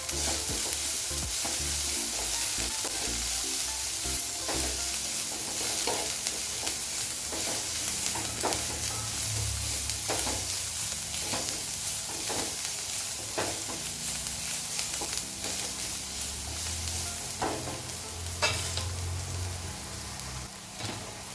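Finely chopped onion sautéing with a pinch of salt gives a steady sizzle and regular spoon scrapes against the pan, close and unbroken for about twenty seconds.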